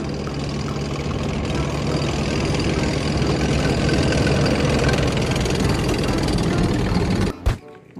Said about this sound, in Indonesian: Tank militer atau tank baja.